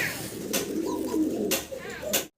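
Fancy pigeons coo in a low, continuous murmur close by, broken by a few brief rustling bursts.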